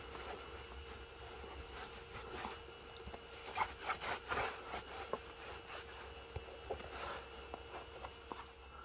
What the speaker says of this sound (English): let's go ahead and wipe it off with a microfiber cloth